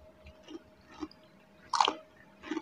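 People chewing food in a multicuisine cafe, close moist crunching and biting in short separate bursts, one louder chomp near the middle, over a faint steady hum.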